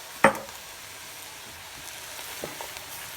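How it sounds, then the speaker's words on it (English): A whole jar of salsa slops into a soup pot with one sharp wet splash, followed by faint sizzling and quiet stirring. "Now I'm going to add half of this jar of salsa. Actually, let's just do the whole jar"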